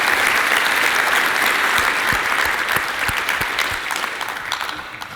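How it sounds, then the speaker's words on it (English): Sustained applause from a conference audience for the day's speakers at a fintech developer event, dense and steady throughout, easing slightly toward the end with no talk over it. "give me a round of applause again for all of our speakers and the hard work they've done."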